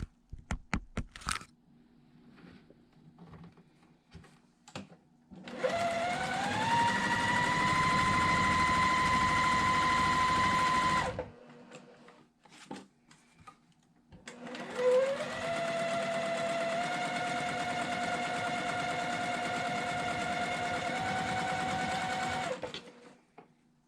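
Sewing machine stitching white and red quilt fabric runs in two steady bursts of about five and eight seconds, its motor humming and rising in pitch as it speeds up, with soft handling clicks between runs and no talk.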